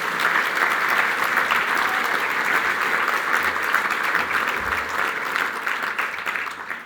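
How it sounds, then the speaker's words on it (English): A packed room gives steady, dense applause at a 2024 Opening of Law Term address, continuous and even throughout with no talk over it. "a round of applause I think is worthwhile for that."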